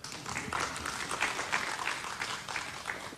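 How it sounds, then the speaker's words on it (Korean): Steady applause from an audience at a talk on world peace and the role of religion, continuous moderate clapping across the whole stretch with no voices over it. "이제 박수를 쳐주셔서 감사드리는데 박수 받으려고 하는 건 아니고요"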